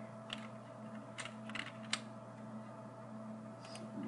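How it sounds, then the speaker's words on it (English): A delete key is pressed on a computer keyboard while editing a picture in GIMP, leaving a few faint scattered key taps over a steady low electrical hum, with no talk. "you want to press delete on your keyboard"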